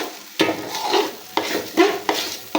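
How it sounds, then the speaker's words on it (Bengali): Biryani rice fries with cumin, chilli and turmeric powder in a pot while a spoon stirs it often, making close repeated scraping strokes with short gaps between them over a faint sizzle. "ঘন ঘন নাড়াচাড়া না করলে চালগুলো তলা থেকে পুড়ে যেতে পারে সেই জন্য বারবার নাড়াচাড়া করে মিশিয়ে নিচ্ছি"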